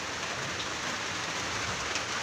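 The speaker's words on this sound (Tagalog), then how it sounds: "Medyo malakas din ang ulan." Heavy afternoon rain pours steadily, a dense, continuous hiss of drops hitting surfaces, loud and unbroken with no voices.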